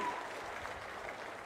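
An audience at an outdoor government event for farmers claps in a soft, continuous patter, heard faint and at a distance across the whole moment.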